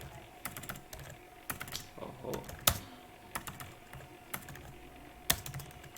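Someone types a C program on a computer keyboard, with irregular clusters of light key clicks and a few sharper, louder taps in a quiet room.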